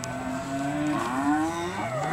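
Well-bred Angus-cross cattle mooing at a livestock sale yard, one long, loud, close low moo that rises and falls in pitch, heard without talk.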